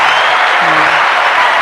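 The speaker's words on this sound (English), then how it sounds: "Let's give some hand claps to that." Hand claps on a podcast set form a loud, dense, steady patter close to the mic, with a brief low hum or voice-like tone partway through.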